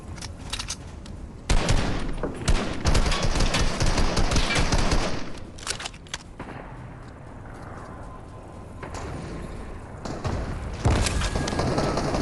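A shotgun firing in a fast online shooter game: bursts of loud, sharp blasts in rapid clusters, with a quieter lull in the middle before more shots near the end, close and without talk.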